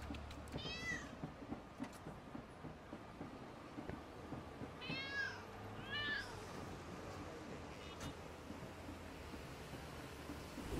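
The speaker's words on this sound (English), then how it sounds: "Now the downtown cat is right here" A cat meows in the LEGO City Undercover video game, a few short distinct calls spread across the scene over a steady ambient background of soft rustling and wind-like noise, with no talking.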